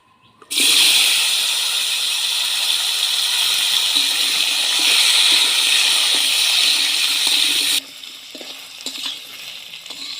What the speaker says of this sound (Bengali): ভাজা তেলে আমি সজনে ডাটাগুলো ভেজে নেব